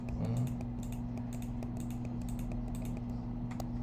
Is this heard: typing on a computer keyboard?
yes